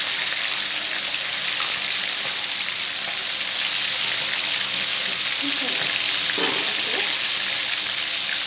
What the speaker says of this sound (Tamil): இப்போ வந்து நம்ம வந்து பொரிச்சிருவோம்.